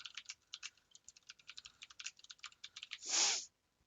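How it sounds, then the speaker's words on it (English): Quick, close typing on a computer keyboard while saving a game, a rapid patter of light key clicks ending in a longer scraping burst, then silence. "apparently I can't type"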